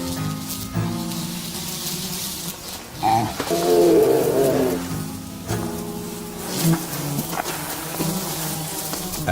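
Insects buzz around in hot summer weather, a near, continuous droning whine that swells and fades as they fly past, loudest in the middle, over a low background.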